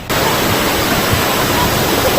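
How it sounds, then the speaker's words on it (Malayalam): A seasonal waterfall hidden inside a forest, running after rain, gives a loud, even roar of falling water that holds steady throughout. "മഴ സമയത്ത് മാത്രമേ വെള്ളച്ചാട്ടം ഉള്ളൂ."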